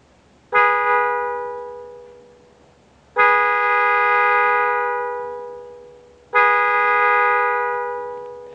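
A Mitsuba Arena car horn with an echo function, freshly wired and switched on, gives three long, loud blasts, each fading slowly before the next begins.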